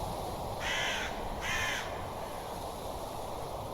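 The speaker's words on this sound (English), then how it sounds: "There's a crow." A crow in the video game Minecraft gives two loud, harsh caws in quick succession over a steady background hum, with no talking.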